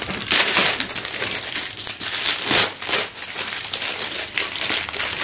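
Plastic packaging crinkles and crunches loudly and continuously while a skincare product parcel is being unboxed, the handling close up and nearly unbroken.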